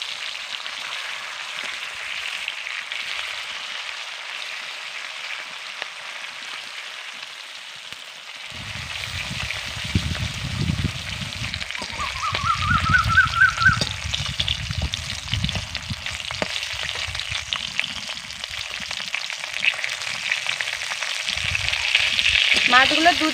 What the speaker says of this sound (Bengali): এই মাছগুলোকে এবার ভেজে নেব।